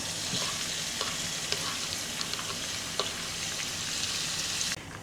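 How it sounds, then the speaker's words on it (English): Onions and minced garlic sauté in a pan with an even, dense sizzle and occasional faint pops, close and alone, until the sound drops away abruptly near the end. "I did let the onions saute"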